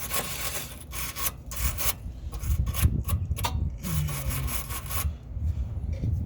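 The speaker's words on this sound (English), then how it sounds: "I guess I probably shouldn't use a brass brush for that. Use a steel brush." Stiff steel wire brush scrubbed hard against metal, a run of rough, rasping back-and-forth strokes in uneven bursts, close and loud, with short pauses between passes.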